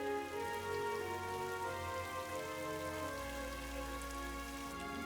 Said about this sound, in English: Mumfie suddenly noticed where all the rain was landing.